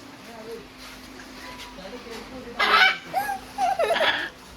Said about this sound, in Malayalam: ഒരു കോഴി.